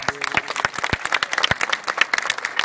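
Spectators at a village wrestling bout in Karmala clapping together, a dense run of fast, uneven hand claps close up that keeps going without a break for the whole stretch, with no talk.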